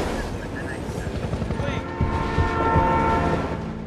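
A runaway freight train with no driver, speeding along the rails in a Denzel Washington action film, rumbles loud and steady with a sustained horn-like tone, mixed with dramatic film sound.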